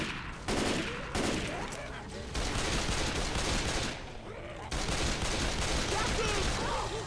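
Heavy automatic gunfire in the co-op zombie shooter Left 4 Dead 2, loud sustained bursts broken by brief pauses, with chaotic game sounds and faint talk underneath.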